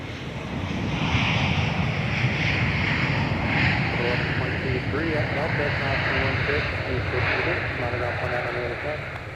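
An airliner lands on runway 12 right at Minneapolis–Saint Paul airport, giving a loud, steady engine roar and rumble throughout. Faint, muffled voices may sit beneath it.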